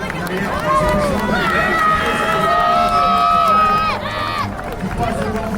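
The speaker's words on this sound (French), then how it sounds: "c'est deux cavaliers" Two cavalry horses with mounted riders pass during a military parade on Bastille Day in Marseille, their steady hoofbeats rising amid a busy outdoor crowd, with sustained tonal whistling or music sweeping over the top.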